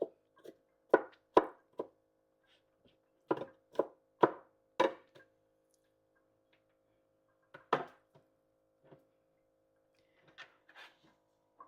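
Garlic is chopped with a knife on a cutting board, giving sharp, close knocks that come in quick bursts of several strikes with pauses between them, against an otherwise quiet background.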